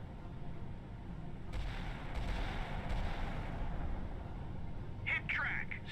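Naval guns fire a salvo in the Sea Power naval combat game, set in an India versus Pakistan scenario: a few deep booming reports about a second apart over a steady rumbling background, with voices in the mix.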